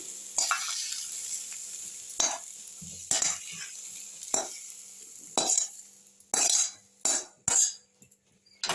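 Carrot, cauliflower and potato being fried and lifted out of a pan, heard as a faint sizzle broken by a run of sharp metallic scrapes and clinks from a spatula against the pan, with no talking.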